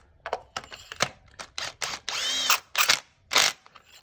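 A socket wrench ratchets in a series of short, crisp clicking bursts, close and fairly loud, as a spark plug is tightened into the 2.0 engine of a 2017 Elantra Sport.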